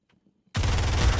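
Gunfire in the video game Zero Hour: after a brief quiet moment, a sudden loud, sustained burst of rapid automatic shots continues without a break.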